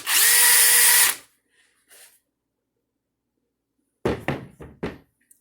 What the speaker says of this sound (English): If you put this drill to your ear, you can hear work getting done.